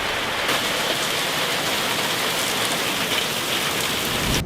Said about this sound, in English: right now it's the low season because it rains quite a lot